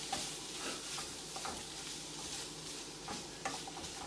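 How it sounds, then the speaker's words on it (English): Food sautés quietly in a pan, a soft steady sizzle with faint scraping stirs and light clicks of the utensil, fairly distant and low in level. "Just saute that up nice and good."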